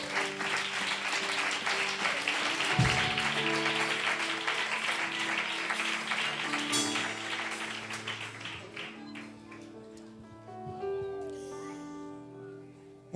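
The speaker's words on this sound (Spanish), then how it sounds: "Dale un aplauso al Señor." A church congregation applauds steadily for about ten seconds, a dense wash of clapping over sustained organ or keyboard chords, fading out as the music continues alone.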